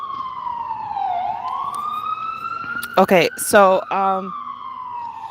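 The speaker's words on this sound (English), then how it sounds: "there's an ambulance coming by" An ambulance siren wails as it passes along a street, a steady rising and falling tone at moderate distance under the room sound, before a person starts talking over it.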